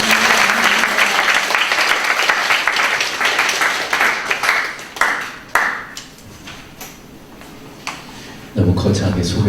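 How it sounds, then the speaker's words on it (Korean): Audience at a free healing seminar gives a welcoming round of applause, loud and sustained at first, then thinning to scattered individual claps before a voice begins speaking at the end. "우리 크게 박수로 환영합니다."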